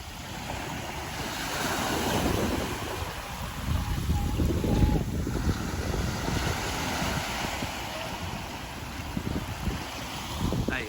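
Sea waves wash steadily onto the shore at Alcudia Beach, Mallorca, a continuous loud surf roar with wind buffeting the microphone and no talk.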